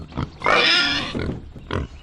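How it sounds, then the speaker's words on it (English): A pig under a table gives a loud, close squealing oink, with short grunts just before and after it. "Is that a pig under the table?"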